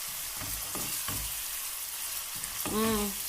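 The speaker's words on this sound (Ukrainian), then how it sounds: "М'ясо обсмажую я на великому вогні." Pieces of meat frying in a pan over high heat, a loud continuous sizzle broken by a few short scraping stirs, close by and with no talk.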